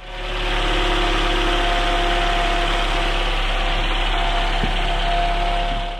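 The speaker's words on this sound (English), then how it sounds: "now it's time to turn on the engine and run the test" A 2016 Toyota Camry four-cylinder engine idles after a serpentine belt and tensioner replacement, a loud, steady hum heard up close with faint light ticks and no talking.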